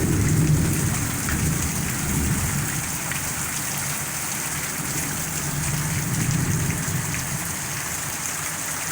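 Heavy rain pours steadily while low thunder rumbles in the background, a dense constant hiss throughout.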